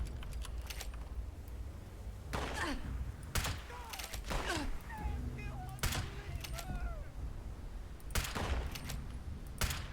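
Several bursts of gunfire in the video game Fallout 76 crack out at irregular intervals, some in quick clusters, over a steady game background with a player talking across much of it.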